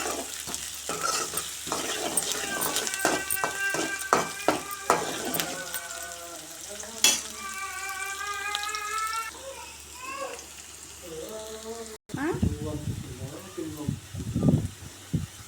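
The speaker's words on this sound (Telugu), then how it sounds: "ఉల్లిగడ్డలు మంచిగా ఎర్రగా వేయించుకోవాలి" Onions fry in hot oil with cumin for boti curry, a steady sizzle with repeated spoon scrapes and clanks against the pan, loud and close, then a louder stretch of stirring near the end.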